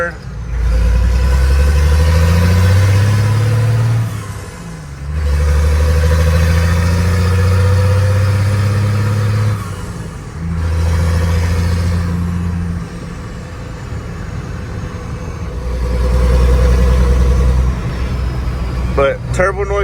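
Inside a dually truck with a swapped 5-speed, a 12-valve Cummins diesel pulls hard through short gears in repeated loud surges, deep drone and turbo whistle rising and dropping at each shift, with a voice talking over it.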